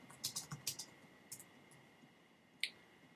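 Keystrokes on a computer keyboard: a quick, faint burst of several clicks, then a pause and one sharper tap, in a quiet room with no talking.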